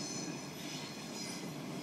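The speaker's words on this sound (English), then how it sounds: "Got trains." A train in Interlaken, Switzerland rumbles by with a steady, loud, continuous roar of wheels on rails and a faint metallic squeal, close and unbroken throughout, with no voices.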